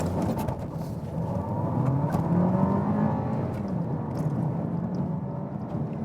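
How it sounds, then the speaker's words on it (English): A VW Golf 8 with a 1.5 TSI mild-hybrid engine, front-wheel drive, revs and accelerates hard in sport mode, making a steady, loud engine drone that rises and swells midway through the run. "So what we can do once more is giving you some acceleration"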